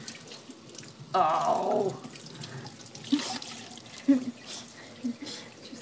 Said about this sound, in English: Let me just rinse the raspberries.